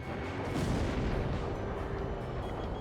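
Missile launch in the combat flight game Ace Combat Zero, a dense, steady roar of rocket thrust with a boomy swell near the start, filling the whole moment with broadband rumble and no voices.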